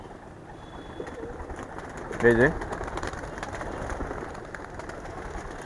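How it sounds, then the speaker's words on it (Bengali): A single soft coo comes from released pigeons midway through, over a low background hum. Someone speaks briefly nearby. "সুন্দর বের হচ্ছে কবুতরগুলা"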